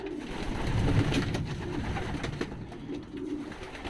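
Racing pigeons coo softly and repeatedly while feeding from a bucket feeder outdoors, with low throaty calls close by over a steady background hiss.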